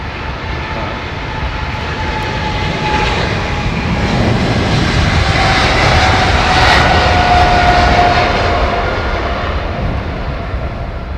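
Air India jet airliner at London Heathrow, a strong continuous engine roar with a faint whine, swelling gently toward the middle and staying loud throughout, no talking.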